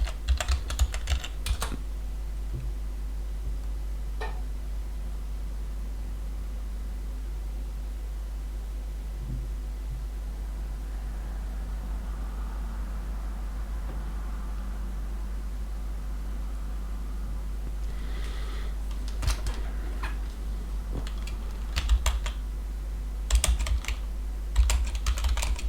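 Keys on a computer keyboard are typed in short irregular bursts in a quiet room over a faint steady hum, with longer clusters of keystrokes near the end.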